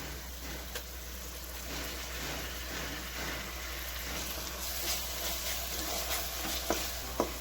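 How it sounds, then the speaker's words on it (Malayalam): Crushed ginger, garlic, green chilli and shallots sauté with tomatoes in a pan, giving a soft, steady sizzle over a low background hum, with a few faint stirring clicks near the end. "ഇനി നമുക്ക് ഇഞ്ചി വെളുത്തുള്ളി പച്ചമുളക് ചെറിയ ഉള്ളി ഇതെല്ലാം കൂടിയിട്ട് ചതച്ചെടുത്തത് ഇട്ട് കൊടുക്കാം"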